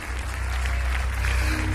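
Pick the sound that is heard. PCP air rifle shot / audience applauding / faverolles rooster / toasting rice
audience applauding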